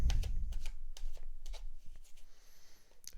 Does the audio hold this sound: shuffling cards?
yes